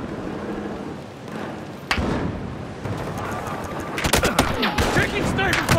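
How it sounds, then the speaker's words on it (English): Sniper fire in a shooter game: a sharp crack near two seconds, then a heavy burst of overlapping shots and impacts over the last two seconds, amid a busy battlefield backdrop with voices. "Taking sniper fire!"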